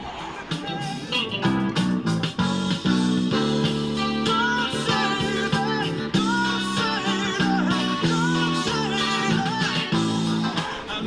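A bass guitar plays the melodic bridge line of a song over a full band groove with drums and layered instruments, steady and loud throughout, with no talking.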